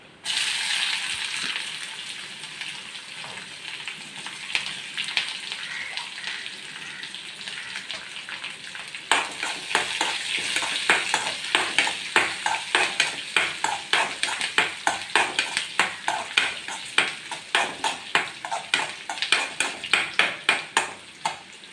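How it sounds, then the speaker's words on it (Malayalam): Sliced onions sizzle in hot oil in a pan while being cooked for an omakka (papaya) chilli curry. A soft frying hiss runs throughout, and repeated rhythmic scraping strokes of a spoon stirring against the pan follow it. "ഇനി നമുക്ക് ഇതിനകത്തോട്ട് സവോളേനെ ഇട്ട് കൊടുക്കാം"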